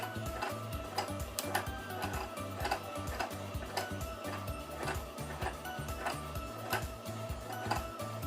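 Sewing machine winding thread onto its bobbin, a steady mechanical whir with a fast repeating tick-like clatter running continuously and fairly close, with no talking.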